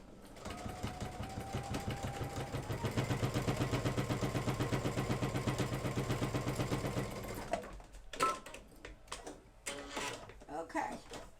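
A sewing machine stitches knit fabric at its widest 6 mm setting, a fast steady mechanical whir for several seconds that then stops, followed by a few clicks and a voice talking.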